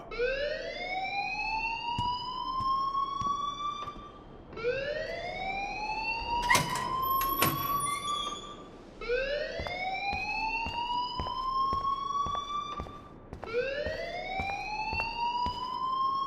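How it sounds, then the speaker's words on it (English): A fire alarm in the video game Life Is Strange wails in repeated rising sweeps, four long cycles, loud and continuous with a few sharp clicks partway through. "please turn off that alarm since that's your job"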